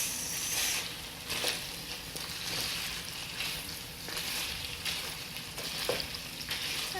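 Pork sizzling and frying in hot oil in a pan, a steady dense crackle with occasional stirring scrapes, close and continuous throughout.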